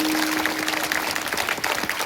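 An audience claps at a kirtan in Degaon, Nanded district, producing dense, continuous applause, fairly close and steady across the whole stretch, with a faint tonal hum beneath.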